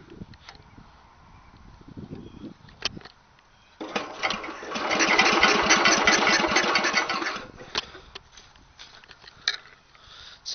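A Spedex small engine, cold and on full choke after stalling, catches with a few sputters, then runs at a rough, buzzing idle for several seconds before faltering, with scattered clunks around it.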